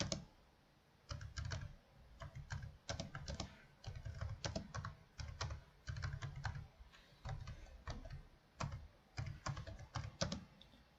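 Keys clatter on a computer keyboard in short bursts of rapid clicks with brief pauses between them, close and fairly quiet, with no one talking.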